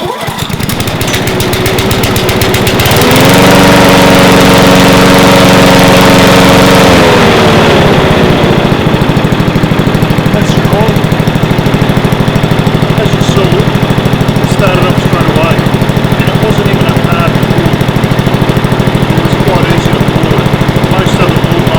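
A 2016 Honda HRU 196 Heritage Easy Start lawn mower, on choke after three weeks unused, fires up and runs loudly and steadily close by, with a higher revving burst early on before settling into a constant engine drone.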